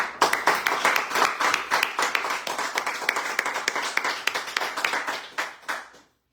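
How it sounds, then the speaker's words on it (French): A live studio audience at a radio bistro show claps steadily, with sharp individual claps standing out of the applause, and the sound cuts off abruptly near the end. "vos applaudissements ne seront pas trop pour les aider"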